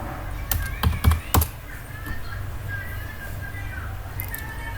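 A captcha code being typed on a computer keyboard: a quick cluster of sharp, close key clicks near the start, then a quiet background with a few faint taps.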